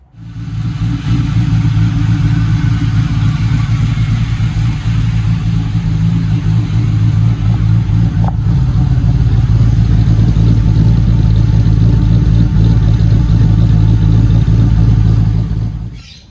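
An LS1 V8 runs in a rebuilt Toyota Hilux just after its first start, a loud, close, steady rumbling idle with occasional light revs that holds for about fifteen seconds before cutting out, with no talk over it.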